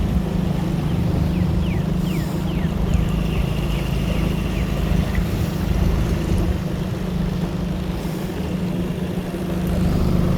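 Outboard boat motoring slowly past docks in a South Carolina marsh creek, a steady low engine drone with constant wind noise and water wash, close and unbroken, with faint bird chirps.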